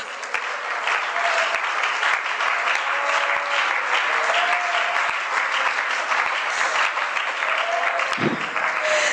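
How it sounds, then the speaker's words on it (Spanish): Warm congregational applause at a Spanish-language church prayer gathering, steady clapping sustained for several seconds with a few sharper individual claps and brief tonal sounds mixed in. "Un aplauso para el Señor."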